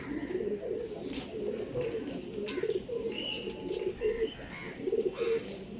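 Several Andhra Madras pigeons coo close by, their low rolling calls overlapping in an unbroken chorus with light rustling in the background.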